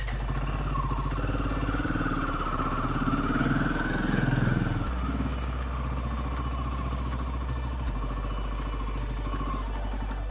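A Royal Enfield motorcycle engine idles and thumps at close range while the bike is being parked near a hill temple, a steady low rumble with slight shifts in pitch and no talk over it.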